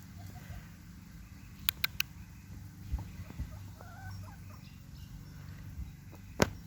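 Chickens in a coop cluck softly and intermittently, with a few sharper calls and scratching sounds over a low background hum, fairly quiet and close.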